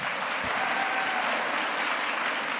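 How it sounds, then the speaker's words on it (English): An audience applauds in a school chapel service, a steady, dense wash of clapping from many hands that fills the room evenly and continues without a break from start to finish. "Let's give her another round of applause."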